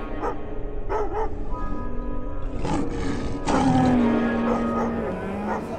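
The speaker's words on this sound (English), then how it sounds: "when the dogs bark, they make noise" Dogs near a village beside a lion habitat bark in short repeated bursts, mixed with a roar-like animal call and outdoor background noise.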